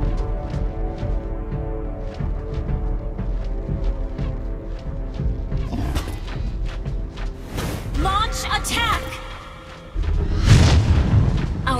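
Turret destroyed in a Mobile Legends match: a deep boom with rumbling blasts and bursts, loud and close, set among busy game effects and music.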